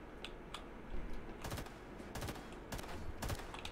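Gunfire from weapons in the game Garry's Mod, several short bursts of rapid shots spaced through the clip over a steady low background, fairly close and moderately loud.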